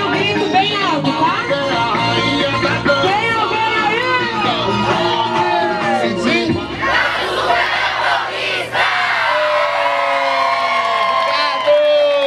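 A crowd of dancers shouts and whoops loudly at an outdoor dance class on Avenida Paulista, a dense, sustained roar of cheering voices with some shrill cries, continuing without break.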